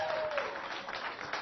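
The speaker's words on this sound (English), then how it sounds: "So give yourselves a round of applause, please." A brief round of applause from a live music audience, fairly faint and thin, with a clustered patter of clapping.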